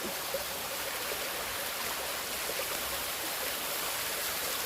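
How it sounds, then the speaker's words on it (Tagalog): A river and tall waterfall in Chi Fu forest roar steadily in a continuous broadband rush of water, with no voices. "Tapos may mataas na falls."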